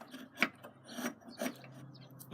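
A large sabot knife pares fine shavings from wood in several short, close rasping strokes, with quiet pauses between each cut.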